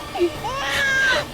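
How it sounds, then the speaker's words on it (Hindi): A baby girl cries in thin, wavering wails that rise and fall through the short stretch, fairly close and continuous, set in a Hindi TV drama scene. "हमारी बच्ची रो रही है, आवाज आ रही है।"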